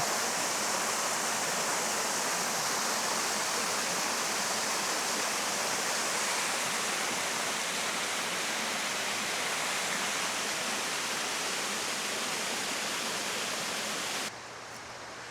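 A waterfall at Desoto State Park rushes in a constant, loud broadband roar close by, unbroken for the whole stretch until it drops off at the end.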